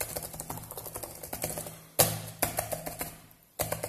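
Keystrokes on an Acer Aspire 5749Z notebook keyboard with a faulty keyboard, a steady run of close clicky taps with two louder bursts, no talking.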